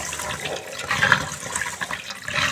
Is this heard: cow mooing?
no